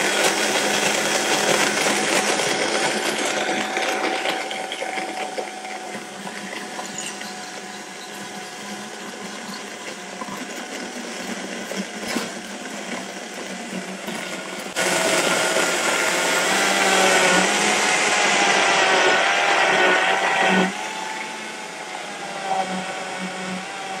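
A countertop blender runs steadily and loudly, crushing ice with protein powder for a gingerbread smoothie, with a dense whirring roar that shifts in pitch partway through as the blend loosens.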